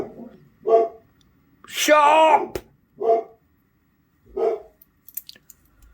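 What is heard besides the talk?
dog barking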